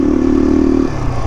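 A motorcycle engine strains under load on a steep, rough climb, holding a loud, low, steady drone that drops in pitch and eases slightly near the end.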